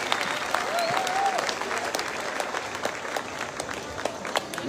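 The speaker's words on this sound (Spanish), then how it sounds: "El aplauso fuerte para el mariachi." Sustained applause from a large outdoor crowd at an international mariachi and charrería festival, with a brief whistle or voice early on and crowd murmur beneath the steady clapping.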